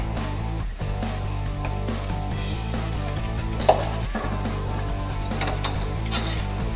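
Broccoli stir fry crackling and sizzling in a hot pan with sauce, a constant loud hiss punctuated by pops and a sharp utensil clank partway through.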